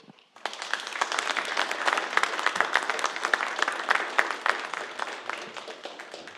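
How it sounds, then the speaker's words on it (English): A lecture audience at the Bentley Lecture in Sustainable Agriculture breaks into applause to welcome the speaker; after a brief quiet start, dense close clapping with distinct individual claps continues steadily for several seconds. "help me to welcome with a round of applause to Tahmid"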